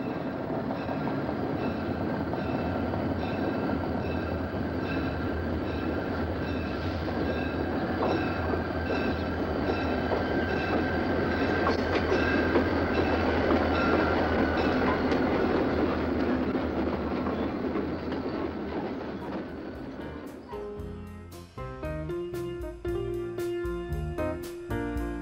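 Conrail freight train led by an SD-45 diesel locomotive, a former Erie Lackawanna bicentennial unit, rolls past close by with a steady loud rumble and wheel clatter for about twenty seconds, then the sound shifts to sparser rhythmic clicking of railcars.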